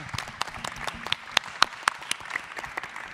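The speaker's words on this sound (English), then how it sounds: "So maybe help me give a round of applause." Applause from an audience at a talk on inclusion, design and education, a steady wash of clapping with a few sharper individual claps standing out near the listener.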